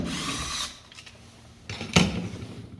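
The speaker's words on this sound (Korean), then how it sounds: "자, 이렇게 피스로 그냥 이렇게 타일 구멍만 뚫고 나서" A power drill bores a hole through wall tile during a washbasin installation: a close, loud burst of whining drilling, a pause, then a couple of short, sharp bursts near the end.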